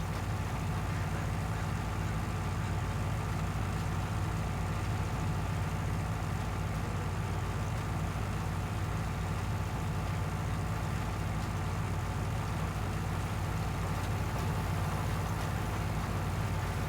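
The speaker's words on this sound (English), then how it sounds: "Because the tractor doesn't seem to be slipping or anything, so that might be just how it runs." A tractor engine in the farming game Farming Simulator 19 runs at a steady, constant drone with no change in pitch or level for the whole stretch.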